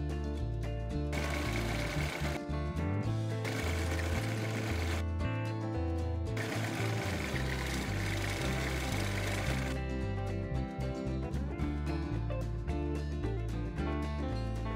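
A sewing machine runs in long steady bursts with brief pauses, stitching folded fabric with an elastic fold for a skirt, its rhythmic mechanical whir close and loud with no talk.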